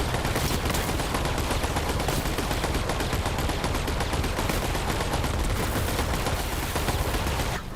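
Turret gunfire in Borderlands 3 from a player using a mounted turret: rapid automatic shots in one dense, unbroken stream for the whole stretch, loud and close, with no talk.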